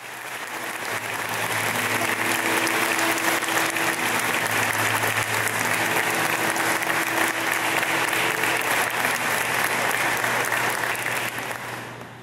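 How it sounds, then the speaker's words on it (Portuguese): Wedding guests at a church ceremony give a long, sustained round of applause, swelling quickly and holding steady and full before tapering off, with a low hum beneath the clapping. "Uma salva de palmas,"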